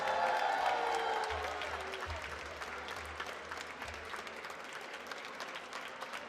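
An audience at a Lunar New Year reception in Ottawa applauds Prime Minister Justin Trudeau, a dense wash of clapping that starts loud and eases slightly while continuing steadily throughout.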